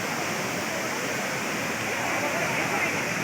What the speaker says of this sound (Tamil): தென்காசி மாவட்டத்தில் இருக்கக்கூடிய மெயின் அருவி இதுதான்